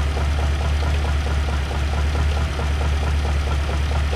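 A 1951 Mercury engine idling smoothly after its first start of the season, a steady low rumble with a faint rhythmic ticking pulse, constant and close with no talking.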